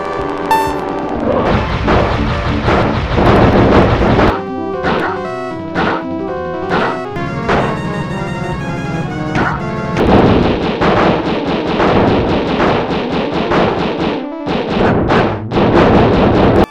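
Retro 16-bit gunshot sound effects from The Rocketeer on SNES, loud and dense, with repeated sharp bursts and chiptune-like tones piling up over the whole stretch without pause.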